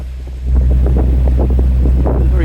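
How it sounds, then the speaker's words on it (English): A sailboat motor sailing with only the mainsail up on a light-wind day off the Exmouth seafront, its engine giving a steady low drone that grows louder after a moment, with wind buffeting the microphone and faint water noise throughout. "We're out now with the sail up, not a lot of wind. But we're motor sailing with just the mainsail up,"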